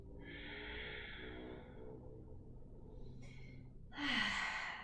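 Deep, slow breaths during a beginners' yoga pose, a long airy exhale followed by a quieter pause and then a sharper, louder intake of breath, close and alone.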